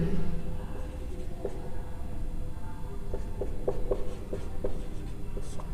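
Chalk or marker taps and scratches on a board during a physics lecture on projectile motion, light and intermittent, heard as short clicks scattered under a steady room hum.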